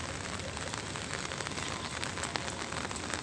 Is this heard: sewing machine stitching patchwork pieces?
no